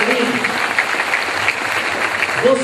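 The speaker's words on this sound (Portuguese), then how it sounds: "Aplauda o Senhor para esse povo bonito que está aqui" A church congregation claps in dense, steady applause, loud and close, sustained throughout with faint voices mixed in.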